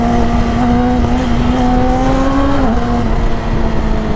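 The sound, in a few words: 600cc sport motorcycle engine revving, Yamaha R6 or Kawasaki ZX6R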